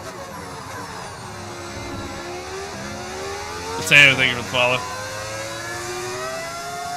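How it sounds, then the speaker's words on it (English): Formula 1 race car engines in the F1 25 racing game whine and shift steadily, with a brief louder burst near the end, heard under someone talking. "Cars sound real nice."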